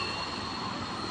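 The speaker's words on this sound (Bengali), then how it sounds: "এটা হচ্ছে রেল স্টেশন" A train at a railway station gives off a steady, loud rumble with a metallic wheel whine that holds evenly throughout, with no voices.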